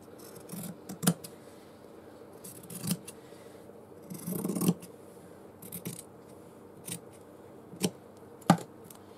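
Scissors snip through fabric for a stitchery journal page background, several crisp, close cuts spaced irregularly with soft rustling handling of the material between them.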